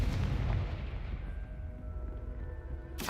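A deep booming blast from the Confringo fire spell in a wizarding video game, a loud rumbling explosion that decays slowly over a few seconds, ending with a sharp new burst, no speech.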